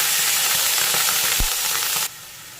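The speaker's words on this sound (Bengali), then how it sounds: "এবার দিয়ে দেবো অল্প একটু জল।" Loud, close sizzle and hiss as a little water goes into vegetables frying in a pan for Bengali sukto, a steady steamy crackle with a brief bump near the middle, then the sizzle drops off abruptly.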